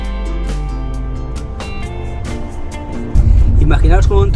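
A family car on the road toward a cave, its engine hum steady and close inside the cabin, with a louder rumble near the end and people talking over it.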